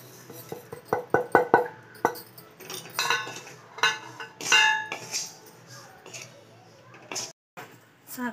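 A spoon stirs and scrapes a coconut and sugar mixture in a metal pan, giving sharp clinks and scraping strokes in irregular bursts, close up, with a voice talking in between.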